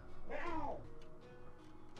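Cats yowl in a video game scene, one drawn-out, wavering meow rising and falling over about half a second, then fading beneath a low steady background hum.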